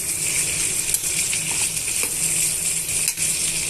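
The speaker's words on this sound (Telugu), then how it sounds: "పచ్చిమిరపకాయ ముక్కలు వేసుకున్న తర్వాత బాగుగా మిక్స్ చేసుకోవాలండి" Green chilli pieces stirred into Bombay chutney in a hot pan, with a steady close sizzle and soft scraping strokes of the spoon throughout.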